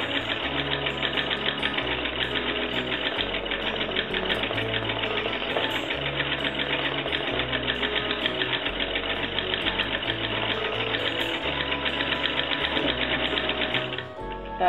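A National two-spool sewing machine fitted with a home-made darning foot stitches continuously in a fast, even mechanical whir with a steady chattering rhythm, close and loud, stopping just before the end.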